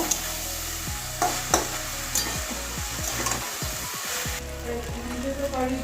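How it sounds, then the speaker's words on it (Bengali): A spoon stirs cabbage curry thickened with rice flour in a pan, producing repeated scraping knocks and soft wet sizzling, with occasional sharper clinks close up. "এবারে ভালো করে মিশিয়ে নেব"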